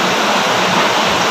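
Water pours steadily out of an emptied hot water bag in a nursing skill demonstration, a continuous close splashing gush with no speech over it.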